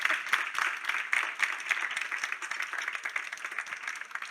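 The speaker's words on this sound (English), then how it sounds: "Please, a round of applause for Chloe." An audience applauds at the close of a metadata talk, steady dense clapping throughout, moderately distant and fairly quiet, with no voices standing out.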